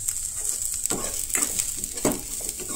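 Curry leaves drop into hot oil for tempering, giving a soft crackling sizzle with a couple of brief louder bursts as they hit and are stirred, heard close and fairly quiet.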